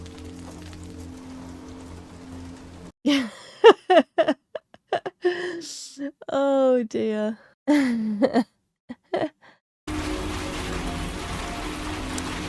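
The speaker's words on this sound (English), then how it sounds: "There's the rain." Steady rain hiss from a Grimm TV episode fills the opening three seconds and returns in the final stretch, with people talking over a quieter middle section.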